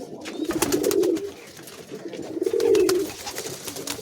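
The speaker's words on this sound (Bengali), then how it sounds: "লফটে অনেক পায়রা আছে" Many pigeons in a loft coo in overlapping low warbling bursts, fairly loud and near, with wing flaps and scratchy clicks around them.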